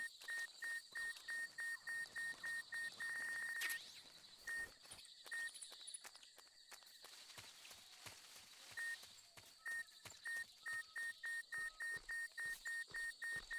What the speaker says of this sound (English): that beeping's doing my head in as well